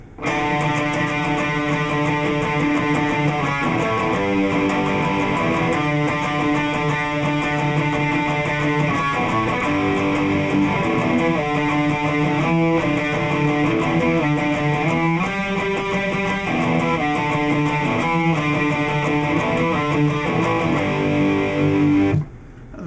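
A distorted electric guitar plays a riff slowly, sustained chords, loud and continuous with no talking, ending abruptly.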